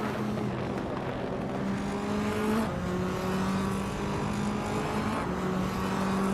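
A 2015 Mercedes-Benz A45 AMG race car in a racing video game, steady loud engine drone with rising and shifting revs and a brief tire squeal, heard alone.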